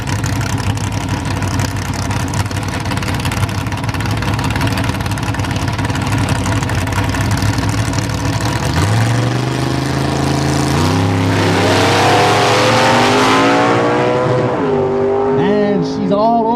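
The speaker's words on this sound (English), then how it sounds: "Going up against Stowe Lake's Larry Smith in the 81 Chevy Camaro, the Gunslinger." A 1995 Chevy S10 and a 1981 Chevy Camaro drag race cars idle loudly at the start line, then rev hard with rising, sweeping engine pitch as they launch, near and alone without talk.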